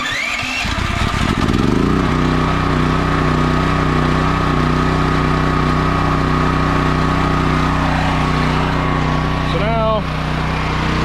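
A portable generator pulls to life, then settles into a loud, steady engine drone that holds evenly throughout; someone speaks briefly at the start over the noise.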